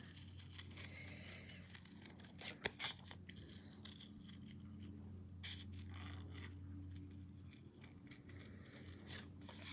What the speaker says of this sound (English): So with fussy cutting, I move both the scissors and the paper.